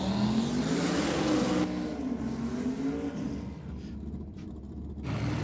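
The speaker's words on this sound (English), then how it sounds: "Well, another huge burnout from the Monaro." A Monaro drives a big burnout at a race-night event, its engine loud and revving with rising pitch and tyre roar, then easing into a rumbling idle with brief pauses before the engine surges again.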